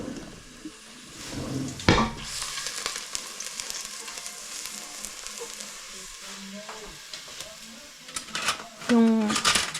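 Garlic frying in cooking oil for tinola, a soft continuous sizzle with occasional utensil clinks and stirring scrapes, while someone talks throughout.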